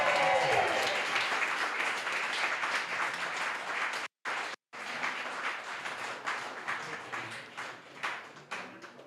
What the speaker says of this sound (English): give a massive round of applause to my amazing wife